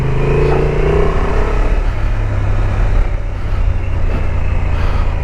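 A Honda XL750 Transalp motorcycle rides off-road over gravel, its engine droning steadily and loudly up close with the roar of wind and rolling tyres throughout.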